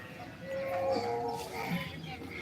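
A cow at a cattle market gives one long, low, droning moo that swells and fades, heard fairly close over a muffled background of market noise.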